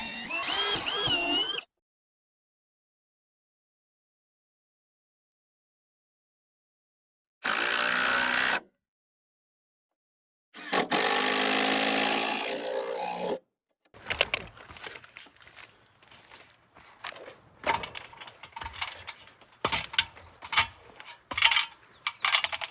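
A power drill boring a 3/8-inch hole through a 4x4 wooden beam for a solar panel mount, heard as several loud bursts of whirring and grinding separated by silent pauses, then choppier spurts of drilling and handling.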